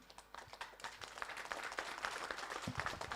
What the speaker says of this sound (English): Maybe we should all clap.